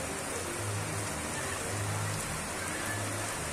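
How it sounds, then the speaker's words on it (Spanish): Heavy rain pours down in a steady, dense hiss, with no voices. "Se incrementa la lluvia a estas horas de la noche"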